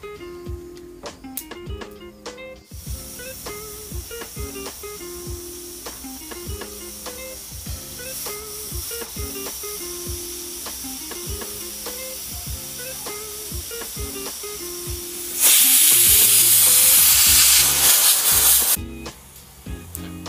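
A pressure cooker cooking ghugni gives its whistle, a loud sustained hissing jet of steam for about three seconds, preceded by quieter kitchen clatter and soft background music.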